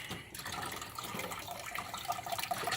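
Water draining from a 5-gallon bucket canister filter for an aquarium, a faint close trickling and splashing flow that runs steadily without speech.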